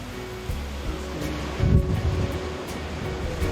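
Atlantic surf rolls along a wild coastline, a continuous wash of breaking waves with a louder swell surging in midway, mixed with gusty wind noise and no voices.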